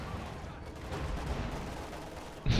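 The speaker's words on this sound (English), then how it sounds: "I hear the walking Stuka firing again" Walking Stuka rocket launcher firing in the video game Company of Heroes 2, a rumbling rush of rocket fire under dense battle noise, ending in a sharp louder blast near the close.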